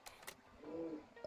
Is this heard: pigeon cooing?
yes